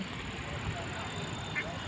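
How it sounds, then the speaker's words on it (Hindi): Ducks quack along the shoreline of Clement Town lake in Dehradun at dusk, a few faint calls standing out briefly against steady background noise and a speaking voice. "तो ये देख रहे बतख भी आए हैं किनारे किनारे"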